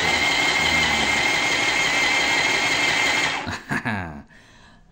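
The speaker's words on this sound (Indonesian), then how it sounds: "Itu ya cara mengoperasikan mesin jahit." An electric 705 A plus sewing machine runs a zigzag stitch with a loud, steady, close mechanical whir. It then winds down and stops near the end, leaving a few faint clicks.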